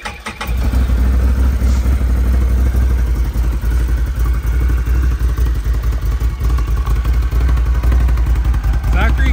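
A Can-Am Renegade 1000 V-twin ATV engine on its factory exhaust idles steadily up close, a low even rumble with a slight clatter, continuing without revving while a voice talks over it.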